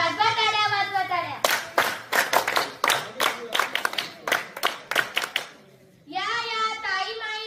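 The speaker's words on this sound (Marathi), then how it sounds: "वाजवा टाळ्या, वाजवा टाळ्या." Students staging a street play about constitutional awareness clap their hands in a run of sharp, close, uneven claps between bursts of group chanting and singing.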